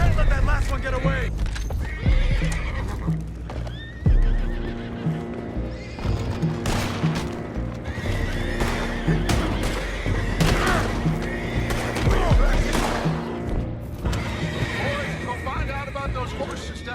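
Horses whinny and gallop with clip-clop hoofbeats in Red Dead Redemption 2, mixed with gunfire and booms from a game battle while characters talk throughout.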